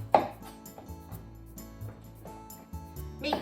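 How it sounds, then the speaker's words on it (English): A knife cutting cucumber into very thin strips on a board, a series of quick, close taps and thuds in an uneven rhythm, fairly quiet, with no talking. "Next is cucumber. I'm making very thin strips."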